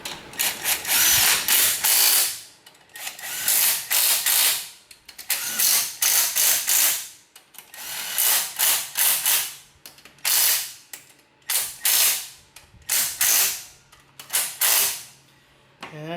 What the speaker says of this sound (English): I'm going to just torque these down real quick.